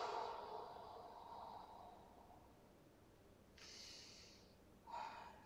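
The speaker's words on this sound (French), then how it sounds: "Et on respire." Deep breathing during a Pilates exercise, a long audible exhale followed by two short sharp nasal breaths, close but soft over a faint background hiss.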